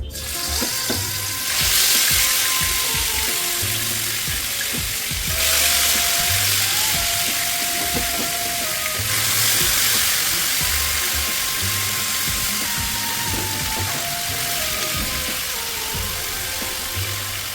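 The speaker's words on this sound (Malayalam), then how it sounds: "ഒനിയൻ ഫ്രൈ ചെയ്ത അതേ എണ്ണയിലേക്ക് തന്നെ മാരിനേറ്റ് ചെയ്ത് വെച്ചിരിക്കുന്ന ചിക്കൻ നമുക്കൊന്ന് ഹാഫ് ഫ്രൈ ചെയ്തെടുക്കാം" Steady, loud sizzling of marinated chicken half-frying in hot oil, with occasional scraping and stirring sounds over a continuous crackling hiss.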